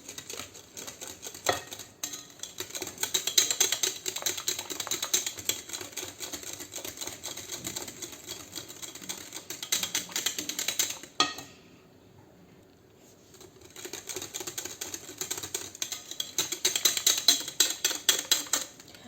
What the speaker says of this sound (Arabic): غادي نخلط الخليط ديالي.